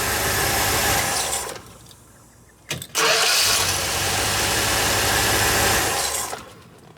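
A 1973 Dodge B100 van's 360 V8 engine fitted with HEI electronic ignition, out of timing, runs loudly up close, cuts out briefly, then catches and runs steadily again.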